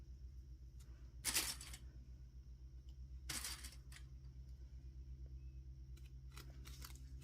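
Scissors snip fabric while a zippered block pouch is sewn: two crisp, close cuts a couple of seconds apart, then lighter clicks and snips over a steady low background hum.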